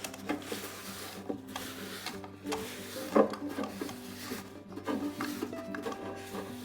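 Cloth wiping excess wax finish off a wooden farmhouse furniture piece, giving soft irregular rubbing and light wooden knocks at close range, heard alone without talk.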